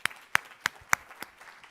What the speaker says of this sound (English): Everyone, let's please share another round of applause for our amazing hosts tonight